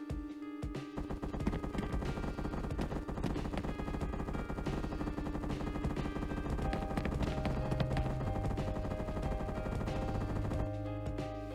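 Gunfire from a low-poly first-person shooter game in development, bursts of rapid machine-gun shots and single cracks, loud and continuous with no talk.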